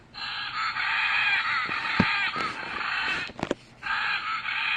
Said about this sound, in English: And this is blue and yellow macaw.